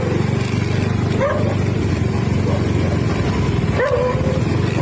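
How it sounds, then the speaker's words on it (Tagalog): Many dogs bark at a motorcycle on the road, overlapping yaps and barks over a constant loud motorcycle engine hum close by, with a few higher yelps standing out. "Daming aso."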